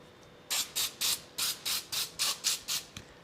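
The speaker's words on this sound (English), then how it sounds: "This is Pam cooking spray that has flour in it" Pam cooking spray with flour is sprayed onto a baking pan in about ten quick, evenly spaced hissing bursts, close and clear with no talking.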